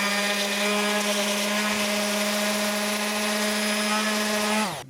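A power sander with 60 grit paper whines at a steady, loud pitch against a motorcycle expansion chamber, holding one constant tone throughout before winding down abruptly at the end.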